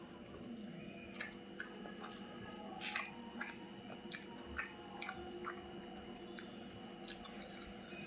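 Someone chews Sultan shop parotta from Madurai, soaked for an hour in several kinds of curry, making faint, close, wet squishing and soft biting sounds at irregular intervals over a quiet background.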